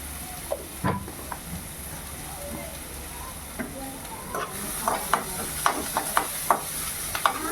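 Cumin seeds added to onions frying for a restaurant-style mushroom curry: a steady hiss and sizzle with light stirring taps and crackles growing busier toward the end, close to the pan.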